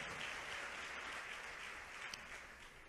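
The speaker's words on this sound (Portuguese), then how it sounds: "Aplauda ao Senhor Jesus se você quer" Church congregation clapping steadily in a wide, continuous wash of applause, moderately distant.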